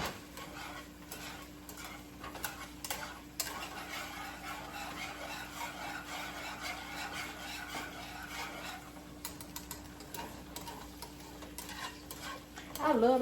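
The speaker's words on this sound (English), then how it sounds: "Saute the onions just a little bit." Onions sautéing in a pan, a low steady sizzle under frequent light scrapes and clicks of a utensil stirring, fairly quiet and close, with a louder burst at the very end.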